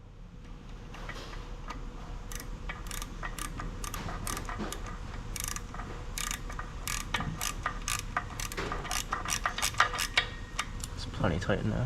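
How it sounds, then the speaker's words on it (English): Ratcheting clicks in rapid, regular bursts as a wrench tightens a loose side part on a barn-find Yamaha RD 350 motorcycle, close and moderately loud over a faint background hum. "Side's a little loose. Let me tighten that up."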